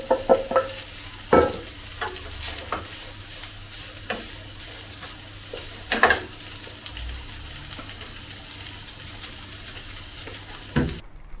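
Char siu barbecue pork stir-frying with aromatic onions in a pan, an even sizzle punctuated by several loud spatula clanks and scrapes at irregular intervals, no speech.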